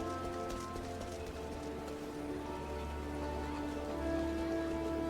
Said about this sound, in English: And it's raining, everybody. It's raining.